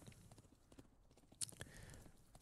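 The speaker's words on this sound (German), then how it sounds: "Wir haben so Radahns Pferd geklaut" Horse hooves clip-clopping in the minimalist strategy game Thronefall, a soft, steady run of light hoof clops under a faint bed of game sound, with two slightly sharper hits near the middle.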